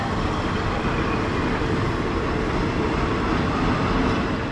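Loud, steady rumble from a train on Thailand's Death Railway between Bangkok and Kanchanaburi, a continuous broadband roar that holds even throughout, with no voices.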